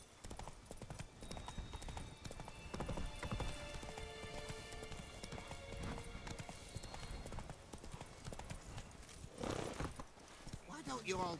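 Horse hooves galloping in a video game, a steady rapid clip-clop running throughout under background music and game effects, with a voice talking over it.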